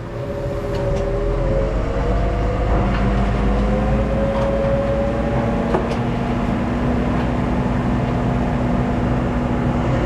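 New Holland T6.160 tractor pulling a Rolmako U436 subsoiler in a field, a loud, steady engine drone with a slowly shifting tone running the whole time.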